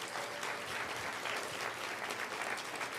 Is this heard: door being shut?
no